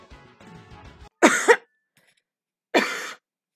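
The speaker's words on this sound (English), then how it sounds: "Sorry, don't mean to cough into my microphone." Two separate coughs from one person, delivered close into a microphone: a loud double burst first, then a single harsh cough after a short pause, with quiet background voices murmuring before the first one.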